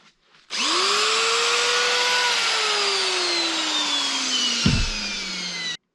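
A broken sander with a snapped drive belt runs freely: its motor spins up with a sharp whine, holds a loud steady tone that slowly sags in pitch, a brief knock near the end, then cuts off.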